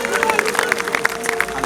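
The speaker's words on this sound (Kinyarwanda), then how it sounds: "Amashyi yumvikana dushimira Imana." A church congregation claps in thanks to God, a dense run of quick, fairly close handclaps with crowd voices and cheering mixed underneath.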